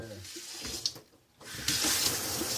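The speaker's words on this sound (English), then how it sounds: "we're using hot water here" Hot water gushes from a kitchen sink faucet over cooked potatoes being rinsed, a steady loud splashing that briefly dips before running strongly again.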